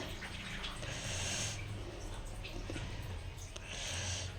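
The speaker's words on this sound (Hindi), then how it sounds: "इसी प्लेट में हम इस तरीके से धुल लेंगे। जो पानी एक्स्ट्रा होगा वो निकल जाएगा।" Water draining off vegetables being washed in a plate in a home kitchen, a steady close wash of splashing and trickling with a low background hum throughout.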